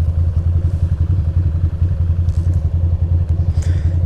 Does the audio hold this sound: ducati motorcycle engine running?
yes